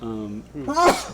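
A single sharp sneeze bursts out right after a stretch of speech, close and fairly loud, with voices continuing around it indoors.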